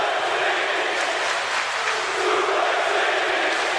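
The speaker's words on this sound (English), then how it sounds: "And hear the crowd." A wrestling arena crowd cheering, a dense, steady wash of roaring voices and applause that holds at a constant level throughout, fairly distant and without distinct individual calls.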